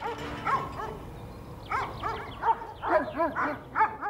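A livestock guard dog protecting its flock barks repeatedly in short bursts, close and fairly loud, with irregular pauses between barks.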